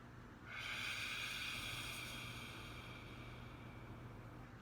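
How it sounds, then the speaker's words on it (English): A long, steady exhale breathed out through the mouth, a close, soft airy hiss that starts abruptly and fades slowly, with no speech. "Breathing out through your mouth."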